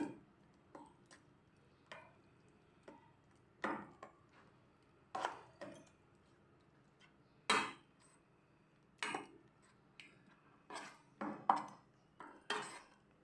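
Grated cucumber and green chili being stirred together for a fasting raita, with a spoon knocking and scraping against a bowl in scattered, irregular clinks, close and fairly quiet.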